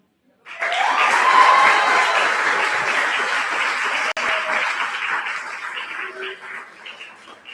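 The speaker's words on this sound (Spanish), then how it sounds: "fuerte el aplauso para Aranza" A crowd at a Tahitian 'ori dance gala applauds a dancer, a loud sustained wash of clapping that starts abruptly and slowly tapers over several seconds, with a few faint voices beneath.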